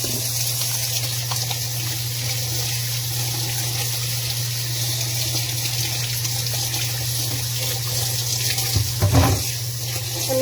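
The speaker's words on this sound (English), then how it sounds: "I'm just going to wash my hands again." Kitchen sink tap running steadily while hands are washed, a close, even hiss of flowing water with a louder splashing burst near the end.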